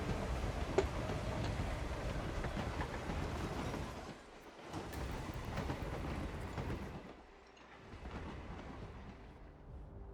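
Game train in Hitman World of Assassination rumbling along, a continuous heavy rolling roar with brief dips in level before the noise resumes.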